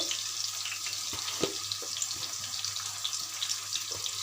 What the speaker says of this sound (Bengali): ডিমটা একটু হালকা হালকা ভেজে নেব।